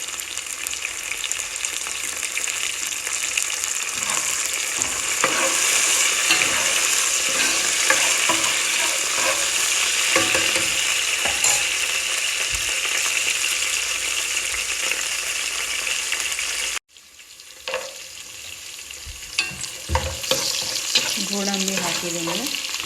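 Peas and cashews fry for chicken biryani in a pan, giving a continuous close sizzle with stirring scrapes and rattles. The sound breaks briefly, then the sizzle returns with a few clinks.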